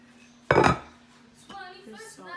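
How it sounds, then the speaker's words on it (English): Dishes are washed while cooking at home, with a loud clatter of pots and cutlery followed by softer clinks and scraping. "I'm gonna wash my dishes because another big rule of thumb is wash your dishes as you cook."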